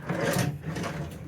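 A wooden drawer slides open or shut beneath a hotel bed in a shark-themed cabin at a theme park resort, a short scraping rumble heard close by over about a second.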